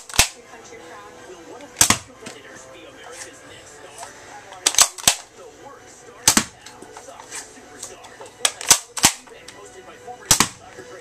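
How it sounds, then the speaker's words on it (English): Nerf Dart Tag Sharpshot blaster loaded with Elite darts fires about ten sharp, loud snapping shots at irregular intervals, each a crisp pop standing out over a quiet, slightly noisy room. "I'll be firing at the map."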